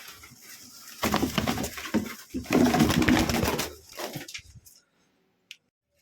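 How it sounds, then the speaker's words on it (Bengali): Pigeons inside a cage at a bird sale, six birds being packed for a buyer, give soft cooing calls among rustling and shuffling in the first few seconds, then the sound fades to near silence. "দেখুন পুরো পায়রাগুলো সব এর ভিতরেই ঢুকানো আছে"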